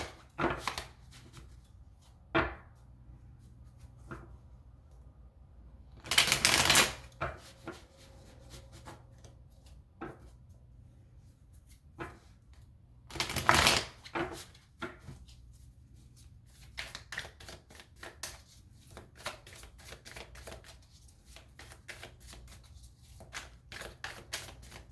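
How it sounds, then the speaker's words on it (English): Tarot cards being shuffled and pulled on a table, with two loud riffling bursts, scattered soft taps and slides as cards are laid out, and a rapid flicking run near the end, close and otherwise quiet. "Let's go ahead and pull some cards for that and see what this is all about."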